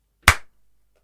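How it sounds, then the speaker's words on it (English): A single sharp hand clap, close and loud, with a quick decaying tail and then silence. "I'll put a little clap."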